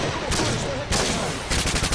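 ACR assault rifle fire in Modern Warfare 2, loud close bursts of rapid shots in two or three spurts with brief pauses between them.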